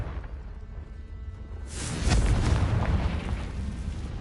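A Confringo blasting spell detonates in the Hogwarts Legacy video game, a single loud booming explosion that bursts in after a quieter stretch and rolls out into a long rumbling, crackling tail.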